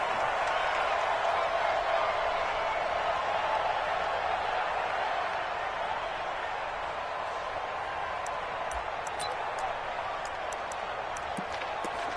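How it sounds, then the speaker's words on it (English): A stadium crowd in an American football video game, Seattle Seahawks against Arizona Cardinals, roars as a steady, even wash of cheering and applause, moderately loud and continuous with no break. "This crowd is ready as their guys get set to match up between the Seattle Seahawks and the Arizona Cardinals."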